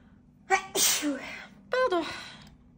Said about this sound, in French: je pense que je vais encore éternuer